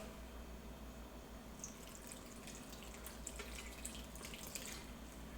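A faint, continuous trickle of water poured into flour and activated yeast for dough, with small drips and splashes scattered through a low background hum.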